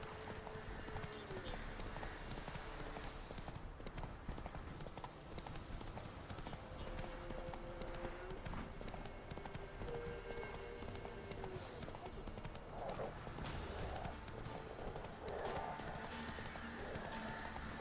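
Roach, the horse in The Witcher 3, gallops with steady rhythmic clip-clop hoofbeats and an occasional whinny, set over game music with a voice talking throughout.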